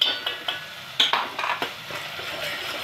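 A metal spoon stirs onion and tomato paste in a pot for chicken biryani, giving irregular scraping clinks and taps against the pot, fairly close and alone with no talk.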